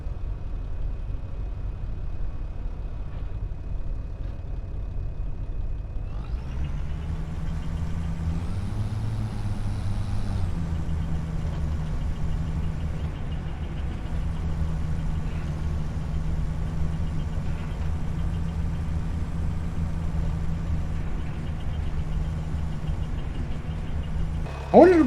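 A borrowed tractor in Farming Simulator 25 runs with a steady low engine drone, revving briefly near the start and then holding a constant hum, with an air-brake-like hiss; a voice talks over it.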